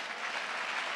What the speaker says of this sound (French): acclamons cela.